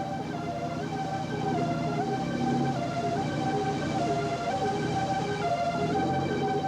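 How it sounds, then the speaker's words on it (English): A wailing emergency siren heard over a phone cycles up and down over a steady background roar, with no voices. "The siren over the phone."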